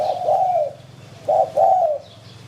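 A dove coos in two phrases, a soft throaty call, a pause, then a clipped note followed by a longer rolling coo, with faint background hiss.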